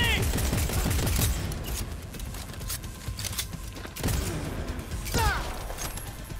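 Rapid bursts of gunfire in Cyberpunk 2077, a dense clattering fusillade with heavier thumps, loud and steady throughout the clip, no voices.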